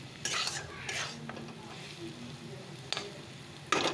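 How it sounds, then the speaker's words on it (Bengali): Soya chunks stirred and frying in a pan, with scattered spoon scrapes and clinks over a low sizzle, fairly quiet and close. "তারপর সয়াবিনটা ভেজে নিই।"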